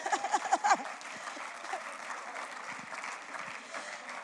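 A church congregation applauds in praise of the Lord, a full burst of hand claps that is loudest at first and then settles into steady, sustained clapping.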